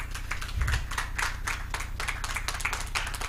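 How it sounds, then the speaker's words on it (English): Conference audience at a policy round table clapping to welcome an arriving speaker, a moderate, fairly even patter of many hands in a room, no talk over it. "let's clap for him until he gets here"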